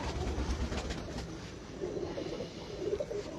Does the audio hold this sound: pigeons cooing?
yes